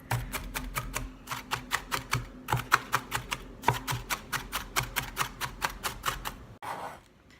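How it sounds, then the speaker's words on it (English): A knife mincing wonton filling ingredients on a cutting board, with steady rapid chopping strikes repeating in even bursts and a brief pause midway, close and fairly loud with no talk. "So you want to mince it up finely"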